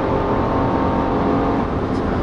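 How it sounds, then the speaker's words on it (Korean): An Infiniti QX60 SUV engine drones and revs steadily up close under manual shifting, a continuous mechanical hum with no pauses. "수동 변속 하니까 엔진 소리가 좀 살아나네요."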